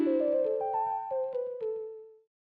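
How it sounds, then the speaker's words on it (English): A synthesizer flute patch plays a short lead melody of several sustained, breathy notes stepping between pitches, clean and alone before fading out at the end. "It's this flute patch that sounds like this."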